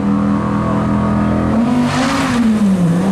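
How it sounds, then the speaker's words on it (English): Naturally aspirated Audi R8 at Brighton speed trials, a loud engine note climbing and then rising sharply in pitch as it accelerates hard past, with a brief squeal of tyres. "Naturally aspirated Audi R8."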